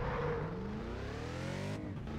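An Audi RS6 Avant engine in Test Drive Unlimited 2 revs hard and climbs steadily in pitch over about two seconds, loud and continuous, then drops briefly near the end before pulling up again. There is no talking.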